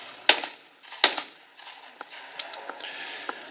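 At a 20 gauge skeet championship shoot-off under evening lights, a shotgun fires at orange clay targets with two sharp, crisp reports heard from a short distance, followed by faint clicks and small knocks.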